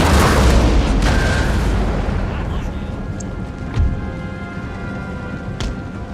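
Artillery fire in Total War: Empire, a heavy booming blast that rolls into a long rumbling decay, with a further distant thud and crackling battlefield noise underneath.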